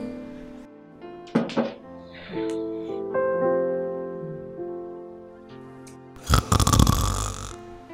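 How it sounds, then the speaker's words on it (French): A person snores in a room, with drawn-out rasping breaths rising and falling, some snorting bursts and a louder rough stretch near the end, and no speech. "arrête de ronfler, s'il te plaît"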